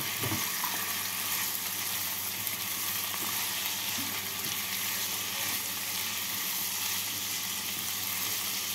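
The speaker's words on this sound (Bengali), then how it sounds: "এই সবজিগুলোকে 1 মিনিট মতো ভেজে নেব" Carrot, cauliflower and beans fry in a pan for dalia pulao, giving a steady, even sizzle that holds throughout with faint scrapes and small clicks from stirring underneath.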